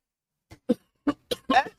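A short run of dry, harsh coughs, four or five bursts in quick succession, close and fairly quiet.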